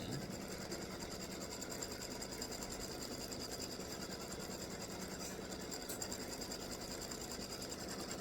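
An embroidery machine stitching a hibiscus design in free-standing lace for earrings and a gift tag, its needle running in a fast, even mechanical chatter that goes on unbroken and alone.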